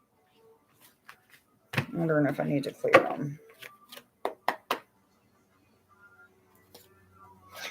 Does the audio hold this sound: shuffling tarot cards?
yes